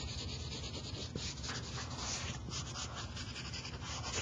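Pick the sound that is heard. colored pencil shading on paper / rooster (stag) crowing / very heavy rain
colored pencil shading on paper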